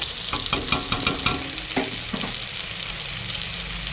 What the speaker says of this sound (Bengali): পটল দিয়ে আর একটু ভালোভাবে ভেজে নেব। খুব ভালো করে কষাবো।